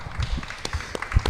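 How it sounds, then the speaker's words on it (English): Small audience at a chamber of commerce safety and crime-prevention meeting giving a few scattered, uneven claps that are close and fairly soft, lasting just over a second. "Can we have a round of applause, please?"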